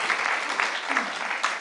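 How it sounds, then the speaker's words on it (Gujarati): A gathering at a Swaminarayan katha applauds to welcome Govind, a steady, moderately loud patter of clapping from many hands with a brief low murmur of a voice partway through. "ધન્ય છે ગોવિંદને આપણે તાળીથી વધાવીએ ભાઈ."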